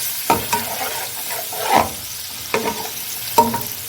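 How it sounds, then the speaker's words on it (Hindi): Crushed ginger-garlic paste goes into a hot pot with a bay leaf for chicken dum biryani, giving a few bursts of frying sizzle and stirring scrapes, with no one talking. "मैं डाल रही हूँ 2 टेबलस्पून भरकर कुटा हुआ अदरक लहसुन का कुटा हुआ पेस्ट"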